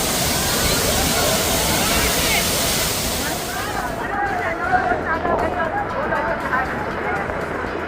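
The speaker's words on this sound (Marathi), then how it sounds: "खूप छान असा धबधबा आहे. तुम्ही बघू शकता पाणी असं पडतं" Dhangar waterfall near Badlapur, a continuous roaring rush of falling water heard up close, with a crowd of bathers chattering and calling beneath it.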